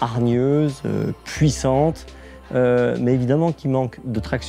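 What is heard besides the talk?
No everyday noise stands out behind the speech.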